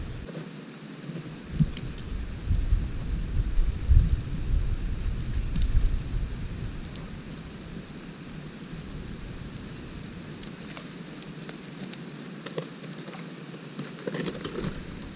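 Steady rain falls in a forest near Chiang Kham, Phayao, with rolling thunder swelling in the first half and fading, the downpour continuing as a constant hiss with occasional birds.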